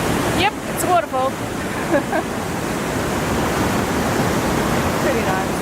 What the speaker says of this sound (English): Yep, it's a waterfall.